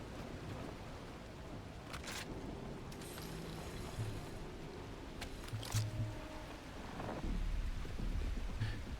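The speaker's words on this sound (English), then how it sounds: "And the rain looking as good as ever." In The Last Caretaker, a steady wash of rain falls throughout while low rumbles of thunder roll underneath and a few sharp bright cracks break through, growing slightly louder toward the end, with no talking.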